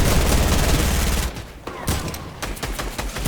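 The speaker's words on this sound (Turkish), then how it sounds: "Pompalıyla vurdum" A pump shotgun fires in the Fortnite video game amid loud, dense bursts of gunfire and crackling blasts that fill the whole stretch, with no clear pause.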